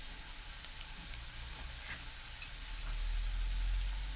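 Ginger sautéing with onions in a pan gives a soft, steady sizzle with a few faint stirring clicks, close but quiet throughout.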